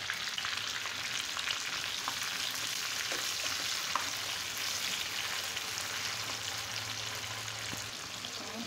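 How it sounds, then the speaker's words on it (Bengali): Salted potatoes fry in a pan with a dense, steady crackling sizzle that holds evenly throughout, close but fairly quiet, with no talking. "এখন আলুগুলোকে ভেজে নেব।"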